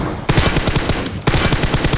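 Loud, close automatic rifle fire in a shooter video game, two rapid bursts of evenly spaced shots with a brief pause between them, no voices.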